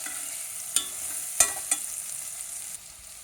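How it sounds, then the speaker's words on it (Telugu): Onions, green chillies, ginger-garlic paste, tomato, peas and long beans frying in a pan, a soft continuous sizzle with a few sharp spoon clicks from stirring. "పచ్చిమిరపకాయ వేసి వేయించుకొని అల్లం వెల్లుల్లి పేస్ట్, టమాటా, బఠానీలు, లాంగ్ బీన్స్ అండి అవన్నీ వేసి బాగా వేగనిస్తున్నాను"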